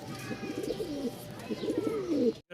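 Danish pigeons cooing close by, two soft throaty rolling coos in sequence over a faint background hum, fairly quiet, with no speech.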